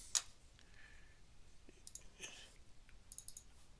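A single sharp computer mouse click on a save button, near and clear, followed by a few faint desk clicks and small handling noises in a quiet room, with no one speaking.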